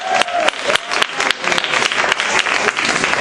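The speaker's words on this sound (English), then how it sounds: "Give him another round of applause." A comedy club audience claps loudly and steadily for a few seconds, a dense wash of hands with a few sharper claps standing out.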